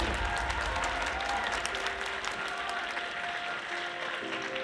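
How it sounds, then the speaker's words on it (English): Audience at a personal-story talk event giving a sustained round of applause, a dense continuous wash of many hands clapping at moderate, slightly distant level. "And can we give a round of applause to Giovanna, please?"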